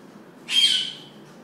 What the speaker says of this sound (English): Our bird, Apollo, he's a bit scared of it